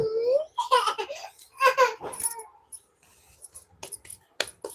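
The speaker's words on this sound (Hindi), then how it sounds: "ये कुत्ता भाई।" A dog makes whimpering, yelping vocal sounds up close, in short bursts between pauses, with some human voices or laughter mixed in.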